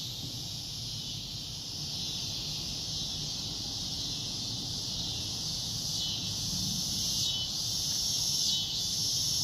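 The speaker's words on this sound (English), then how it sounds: "Well, Boris, cicadas are said to be the loudest insect on the planet. And that clicking that they do resonates at" Cicadas drone in a steady, loud, high buzzing chorus that holds unbroken throughout, with faint flutters near the end and no voices.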